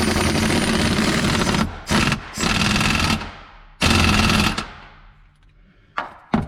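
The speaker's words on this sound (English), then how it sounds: "I'm going to go ahead and tighten it up with the air gun." Air impact gun tightening a rear control arm bolt on a 2008 Mustang Bullitt, heard as several loud, close rattling bursts separated by short pauses, the last ones brief.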